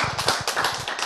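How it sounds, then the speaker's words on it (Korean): An audience at a Korean health lecture claps in a brief burst of applause, a quick run of close, dense hand claps lasting about a second. "박수!"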